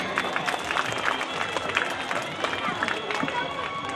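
An audience applauding students at a primary school event, with dense, steady clapping from a crowd that carries on evenly throughout, mixed with voices.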